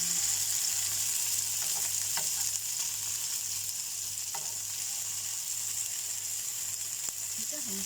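Malai chicken seekh kebabs fry in hot oil and are turned until golden, giving a steady close sizzle throughout with a few soft utensil clicks and a low background hum.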